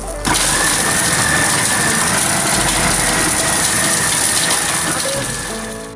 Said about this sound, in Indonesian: untuk membantu proses penggilingan daging